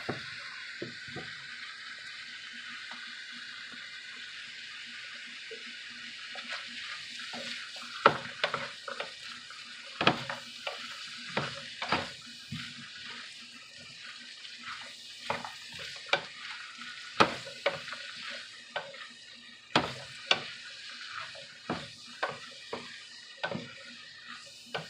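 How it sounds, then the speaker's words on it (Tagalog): Pechay and beans stir-fry in a pan, a constant low sizzle broken by repeated sharp scraping and clacking strokes of the utensil, growing more frequent and louder midway through. "At syempre, paghalo-haloin natin."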